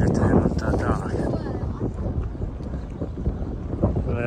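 Gusty wind buffets the microphone with a low, continuous rumble near Popeye Village in Malta, with faint voices or activity mixed in.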